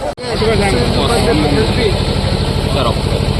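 Motorcycle engines rumble and idle loudly and steadily at a large Hanuman Jayanti bike rally, a continuous dense engine drone with voices and crowd noise mixed in.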